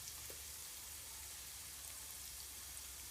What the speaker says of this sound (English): let's just go ahead and put the steak in